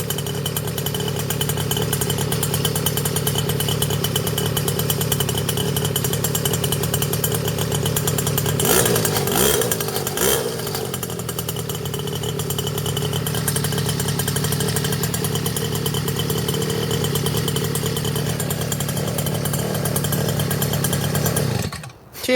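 A pocket rocket mini motorcycle engine runs steadily under repair, a loud, buzzy two-stroke drone with a brief rev wobble midway, then cuts off abruptly at the end.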